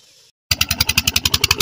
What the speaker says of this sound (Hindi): माशाल्लाह ट्यूबवेल चल चुका है